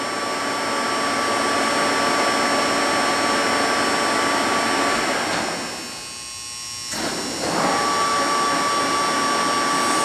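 A Lucas model 441B-72 table-type horizontal boring mill with a 4-inch spindle turning at 114 RPM gives a steady, close mechanical whir with a thin whine, briefly dipping and cutting out near the end before resuming.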